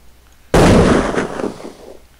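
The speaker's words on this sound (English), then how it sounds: "you can hear AKs. They sound like they're coming from outside." A single sharp blast of AK rifle gunfire in a video game bursts out suddenly and loudly, then fades over about a second and a half.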